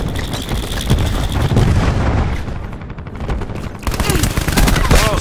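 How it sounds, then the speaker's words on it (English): Cluster grenade blasts in Black Ops 4 go off as a loud, dense barrage of overlapping pops and booms that roll on for several seconds, with a short dip partway through and talk underneath. "cluster grenade"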